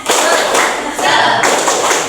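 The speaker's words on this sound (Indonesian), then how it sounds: "Sekali lagi biar semangat, tepuk semangat" A classroom of students performs a rhythmic spirit clap, sharp bursts of many hands clapping together in a quick pattern, loud and close.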